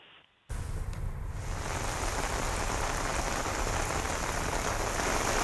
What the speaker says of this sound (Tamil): காலை முதல் கனமழை பெய்து வருகிறது